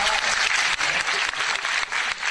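Steady audience applause, a dense crowd of many hands clapping together at a fairly loud level throughout, with no voices rising above it.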